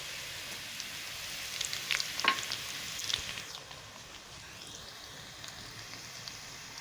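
Browned onions sizzle with cumin seeds in a karahi, a steady close crackle of frying with brief spitting pops and a few stirring scrapes early on, the hiss easing slightly after the first few seconds; no one speaks.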